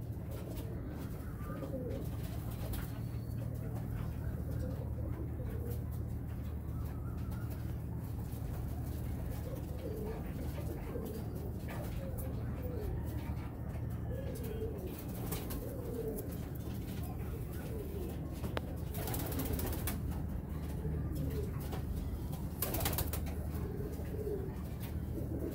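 Golden pigeons coo steadily in a loft over a low constant hum, with soft repeated calls and occasional brief noisy bursts throughout.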